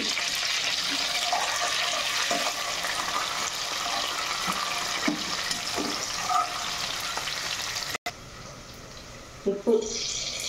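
Coriander and curry leaves hit hot oil in a curry pan for aloo egg curry, giving a steady broad sizzle throughout, with a few soft clinks and a brief break near the end.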